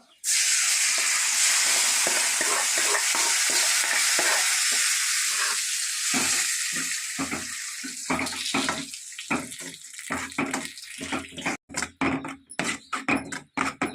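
Hot oil sizzles loudly as gongura chutney is stirred into the tempering, followed by a run of rhythmic scraping and clattering stirs in the pan.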